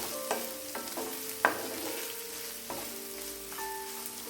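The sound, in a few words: stirring butter chicken in pan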